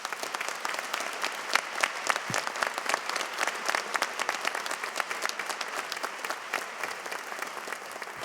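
Commencement audience at a 2018 School of Dentistry ceremony breaking into sustained applause, dense crisp clapping from a large crowd that holds steady and loud throughout with no talk over it.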